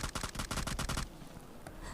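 Rapid automatic gunfire in a Hindi-commentated shooter video game, a loud burst of about a dozen evenly spaced shots lasting a second, followed by quieter game ambience and a faint distant shot.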